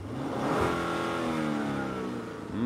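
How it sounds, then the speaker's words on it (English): A 2022 Genesis GV70 3.5T Sport Prestige with its V6 revs up, a steady swelling engine roar heard from nearby with rising and falling pitch, with no speech over it. "this is the V6, and this is how this sounds."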